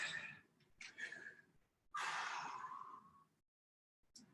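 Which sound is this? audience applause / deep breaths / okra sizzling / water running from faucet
deep breaths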